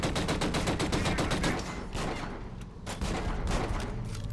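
Rapid, dense gunfire from the video game Killzone Shadow Fall crackles continuously and loudly, with bursts of shots packed close together and barely a pause throughout.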